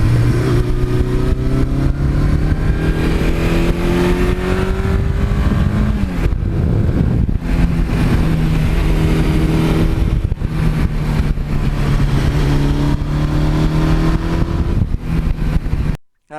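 A 1982 Suzuki GS1100E motorcycle with a black chrome aftermarket exhaust, its engine running loud and close throughout, revving up and settling back several times before cutting off at the end.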